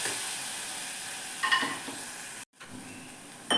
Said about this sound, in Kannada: ಸ್ವಲ್ಪ ಹಸಿ ವಾಸನೆ ಹೋಗೋವರೆಗೂ ನೀವು 1 ನಿಮಿಷ ಫ್ರೈ ಮಾಡ್ಕೋಬೇಕಾಗುತ್ತೆ.